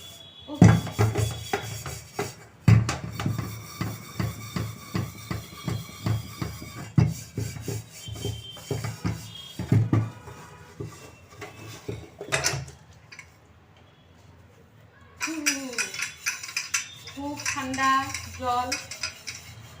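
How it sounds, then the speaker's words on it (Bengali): A pressure cooker, wok and pots are scrubbed by hand, with rapid rhythmic metallic scraping and clanking up close, then a quieter pause followed by rattling of utensils, no speech. "প্রেশার কুকার মাজা এটা না বড্ড বিরক্তিকর কাজ প্রেশার কুকার কড়াই হাঁড়ি এগুলো মাজা"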